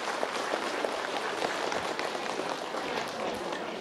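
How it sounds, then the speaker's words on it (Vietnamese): An audience at a charity concert in a Catholic parish in Bình Phước applauds warmly to welcome a priest who sings. The clapping is dense, steady and sustained throughout, with no voices over it. "chúng ta sẽ cho một tràng pháo tay thật dài, thật nồng nhiệt"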